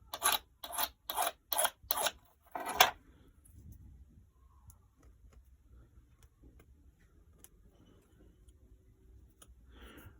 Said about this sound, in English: Just check for any burrs on the key. Remove them if so with a small warding file.